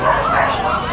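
A dog barks and whines from close by in one short loud burst, sounding agitated behind the person recording.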